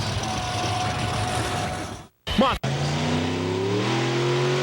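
A monster truck engine revving at a freestyle event, loud sustained roar that cuts out briefly, a quick squeal, then climbs again in a rising rev, with voices mixed in.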